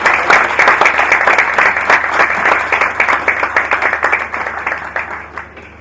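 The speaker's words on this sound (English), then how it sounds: "A round of applause. Louder, please." A large audience at an NSE event applauds loudly before a keynote speech, with dense sustained clapping that stays strong and then gradually thins.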